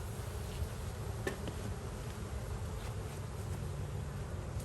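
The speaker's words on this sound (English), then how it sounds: "Lots of fanning going on." Honey bees fan inside a hive, a dense, continuous close buzz that holds steady throughout with no voices.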